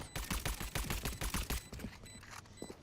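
Rapid gunfire in the tactical shooter Valorant during a competitive Masters playoff qualifier match, a dense burst of loud repeated shots for about a second and a half, then quieter scattered shots and game sounds.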